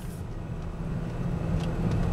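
A car cruising on a highway while passing an 18-wheeler, heard as a steady low engine and road rumble from inside the vehicle, slowly growing slightly louder, with no voices.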